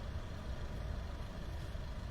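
A truck idling at a highway toll booth, a steady low engine rumble with broadband noise that stays even throughout, no voices.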